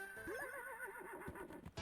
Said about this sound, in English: Horse sounds, distant horse sounds.